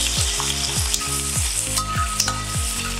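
Shallots and sliced onion sizzle in hot oil with toasted coconut while preparing a Kerala beef fry, a steady frying hiss with regular low thumps from stirring, close and loud, no talking.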